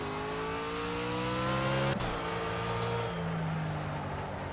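A BMW Z4 GT3 race car in Project CARS at the Nürburgring GP howls through rising and falling engine tones, a sharp click marking a gear change, then the pitch drops as the car comes off throttle.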